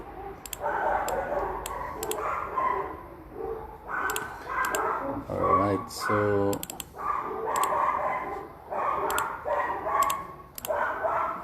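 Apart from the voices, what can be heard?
neighbors' dogs barking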